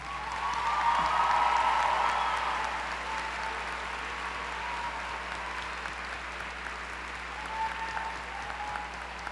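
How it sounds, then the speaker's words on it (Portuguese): At a university graduation ceremony, the audience gives a long round of applause for the graduates' parents, swelling early and then settling into steady, slightly distant clapping from a large hall. "nos ajudem a aplaudir, a uma salva de palmas, aos pais de vocês que estão aqui presentes"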